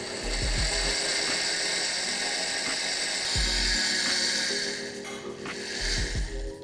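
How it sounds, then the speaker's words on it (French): A blender purées a courgette and Boursin cheese soup with the lid on, a loud continuous whirring motor that holds steady throughout, with brief dips and surges in pitch. "On met le couvercle et on va mixer."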